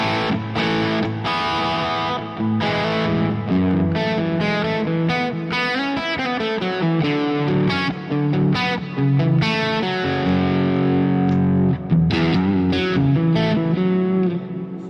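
Distorted electric guitar riffing through an Orange-style amp cab on a Quad Cortex, thick and continuous with chorus-like effects, loud and close with no talking.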